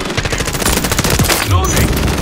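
Rapid automatic gunfire from Call of Duty: Modern Warfare 3, loud and dense with quick repeated shots across the whole stretch, a sharp burst near the end, and game voices faintly under it.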